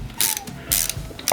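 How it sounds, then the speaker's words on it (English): A ratchet-style wrench clicks in short bursts while torquing a bolt into an aluminum clutch case on a 1974 hardtail Ironhead chopper; close, crisp mechanical ratcheting with brief pauses and no talking. "Torque on a bolt,"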